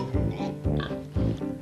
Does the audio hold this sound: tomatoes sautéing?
no